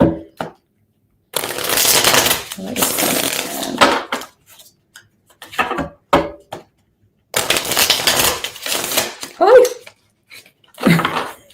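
A stiff new tarot card deck being shuffled by hand, giving bursts of riffling, flapping card noise separated by pauses, with a few short spoken remarks between them.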